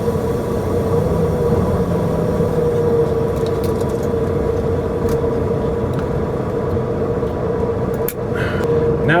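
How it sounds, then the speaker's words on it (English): A steady truck engine drone with constant highway road rumble fills the clip, loud and continuous, like riding in a truck cab near Moab, Utah. "When you get the sound of the highway, and of course the engine and the air brakes"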